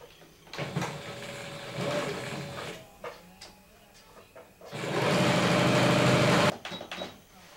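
A sewing machine stitches a seam on a child's skirt in two bursts of fast whirring. The first runs about one and a half seconds, and the longer second one lasts nearly two seconds, with brief handling noises between them.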